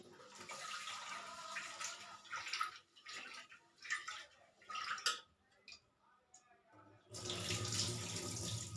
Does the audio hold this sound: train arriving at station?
no